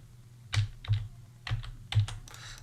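Keys on a computer keyboard are pressed in a handful of separate clicks, spaced unevenly and close by, with a low hum underneath and no talk.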